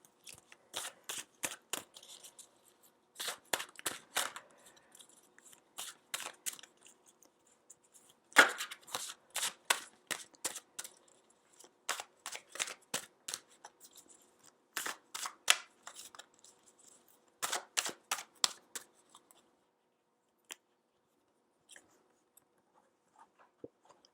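Tarot cards are shuffled and drawn in quick, crisp bursts of riffling and flicking, close and fairly quiet, coming in clusters separated by short silences, with no voices.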